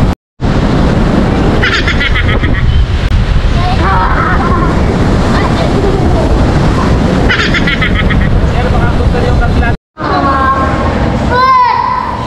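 Strong surf crashes continuously at a beach in Boracay, a loud, broad wash of breaking waves with gusts of wind. Children's voices chatter and call out over it, and the sound briefly cuts out twice.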